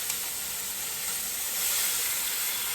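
Onions sizzle in a Le Creuset pot, a steady bright hiss of frying that swells a little midway and continues unbroken with no talking.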